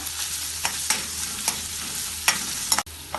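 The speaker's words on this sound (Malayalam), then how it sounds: "ഇതിനി കുറച്ച് സമയം ഇളക്കി വഴറ്റാം." Continuous sizzling of onions frying in a kadai with repeated scraping strokes of a spoon stirring, close and fairly loud, no voices.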